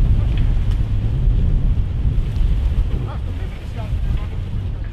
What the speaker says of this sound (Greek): Η ένταση του ανέμου φτάνει τα 8 μποφόρ